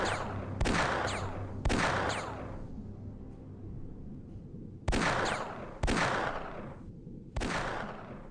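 Auto-shot gunfire in X-COM: Terror from the Deep: three sharp loud bursts in quick succession, a lull, then three more bursts, each trailing off in a ringing decay.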